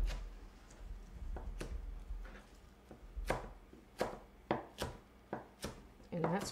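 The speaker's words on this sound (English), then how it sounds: "I'm just going to cut these across that way. And then just roughly chop them." Knife roughly chopping cut acorn squash on a board, a series of sharp, spaced thuds that quicken toward the end, close and fairly clear over low background hum.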